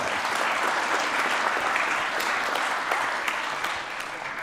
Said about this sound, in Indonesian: Nah, ini boleh tepuk tangan dong, tepuk tangan.